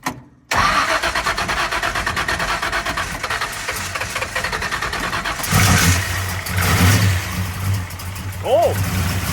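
A car engine cold-starts after a brief silence, cranking into a loud, uneven idle that surges and revs a couple of times, with a person speaking over it.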